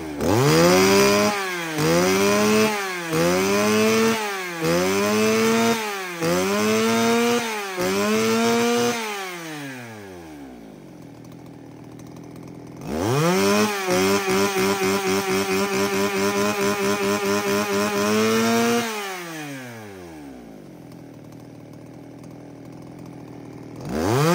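A used Japanese chainsaw from a lot of STIHL, Makita, Echo and Tanaka saws revs loudly several times in quick bursts, then drops to idle and revs again in a long sustained run before winding down.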